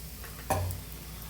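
A batter-dipped egg roll drops into hot oil with one sudden burst of sizzling that quickly settles into a soft, fading crackle.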